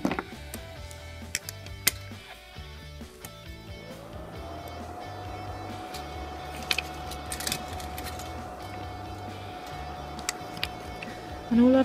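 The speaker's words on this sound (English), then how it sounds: "lock this for 10 seconds in the CND UV lamp" A CND UV nail lamp runs to cure shellac nail polish, giving a faint steady electrical hum with occasional small clicks and knocks nearby, and a quick rising tone at the very end.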